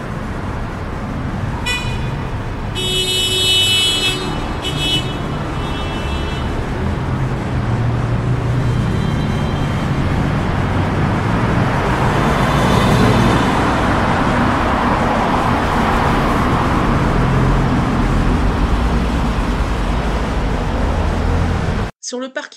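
Car traffic in a prefecture parking lot, audio-drama effects: a continuous roar of passing vehicles with a few short horn toots early on, loud and steady throughout.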